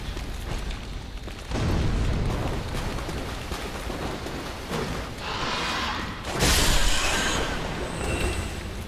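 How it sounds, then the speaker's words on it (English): Fire bombs burst in Dark Souls III combat, two loud whooshing blasts several seconds apart over a dense, rumbling game soundscape. "equip fire bombs"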